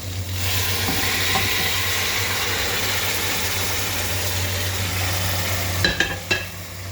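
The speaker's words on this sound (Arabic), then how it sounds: "هنزل عليهم بالصلصه والطماطم اللي انا مسبكاها" Tomato sauce and stewed tomatoes go into okra sautéing in a pan, giving a continuous close sizzle with a low steady hum underneath and a few clinks of stirring near the end.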